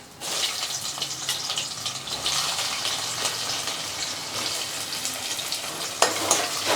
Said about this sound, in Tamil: எண்ணெய் ஊற்றிக்கலாம் கொஞ்சம் கடலை பருப்பு வெங்காயம் போட்டுக்கலாம்